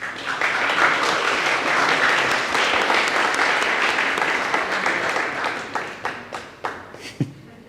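A theatre-hall audience at a startup pitch event breaks into full applause that holds steady, then thins into scattered individual claps that trail off toward the end.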